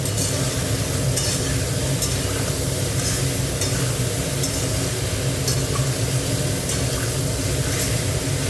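Soybean chunks fry in a hot pan with a little salt, giving a loud, constant sizzle broken by repeated scraping and stirring strokes at a fairly regular pace.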